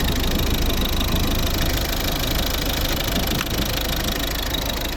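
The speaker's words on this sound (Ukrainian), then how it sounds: "Це робота двигуна. Нічого не димить, не парує все чітко." A diesel engine of a 2011 Volvo V50 1.6 D2 idles steadily and loudly up close, a continuous rumbling drone with a faint knocking texture and no voices.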